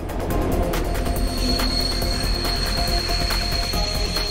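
Japanese Shinkansen bullet train pulling into a station, a steady broad rolling rumble with a faint high whine and rhythmic rail clicks, heard alone with no voices.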